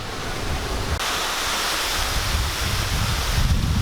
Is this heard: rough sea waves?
yes